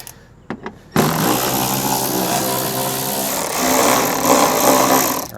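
Power tool loosening 10 mm bolts holding the rear M Sport bumper on a BMW G20 330i, a couple of short knocks and then a loud, continuous whirring buzz that runs close by for several seconds.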